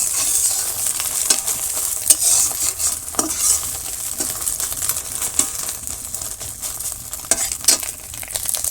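An omelette fries in a pan in a village kitchen while a utensil stirs and scrapes it, sharp clicks and scrapes recurring irregularly over a constant hiss.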